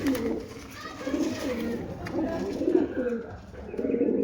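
Pigeons cooing close by in soft, repeated throaty coos that overlap, with a voice talking underneath.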